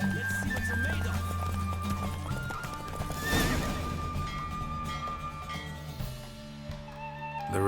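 Roach, a horse in The Witcher 3, gallops with rapid rhythmic hoofbeats and lets out a loud whinny midway, set against a game music bed, with a voice talking briefly over it.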